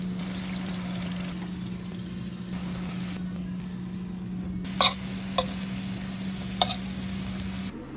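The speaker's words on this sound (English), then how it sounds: "Fry until the breading turns brown" Breaded okra coated in flour, cornstarch and black pepper sizzles steadily in hot oil, a constant crackling hiss with a low hum beneath and a few sharp clinks of utensils against the pan.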